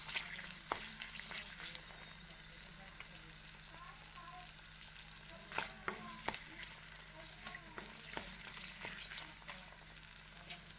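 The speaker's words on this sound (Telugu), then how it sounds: "ఒక 4-5 ఎండుమిరపకాయలు వేసుకొని గోలినాక దీంట్లోనే కొత్తిమీర వేసుకొని గోలించుకోవాలి." Dried red chillies and coriander leaves frying in oil in a pan for a pickle, a steady crackling sizzle with stirring scrapes and sharp pops, close and continuous without speech.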